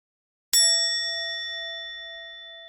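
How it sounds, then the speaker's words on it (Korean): A KakaoTalk message notification sounds inside an electric car on a Korean highway: a single bright chime that rings out clearly and slowly fades, with no talk over it. "카톡."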